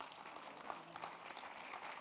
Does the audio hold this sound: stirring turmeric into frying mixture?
no